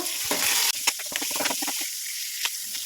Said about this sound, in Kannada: ಜೊತೆಗೆ ಈರುಳ್ಳಿನೂ ಹಾಕಿ ಚೆನ್ನಾಗಿ ಇದನ್ನು ಫ್ರೈ ಮಾಡಬೇಕು